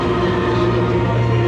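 A Universal Studios tram ride rolls along steadily, a continuous rumbling hum with a low drone, loud and close throughout with no talking.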